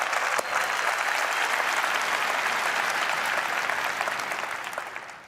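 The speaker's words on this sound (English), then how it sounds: "go ahead and clap for SQL Hyperscale" A tech keynote audience breaks into dense, even applause that holds steady for several seconds and then tapers off toward the end, loud and alone without talk.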